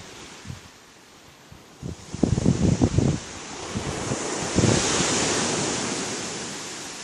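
Ocean waves washing onto a beach at the Bay of Fundy, a broad rushing surge swelling and fading with wind buffeting the microphone in bursts.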